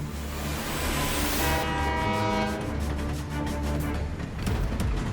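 A cartoon train carrying treasure rumbles past loudly, its horn blaring at first, then giving way to rhythmic clacking of wheels over the rails.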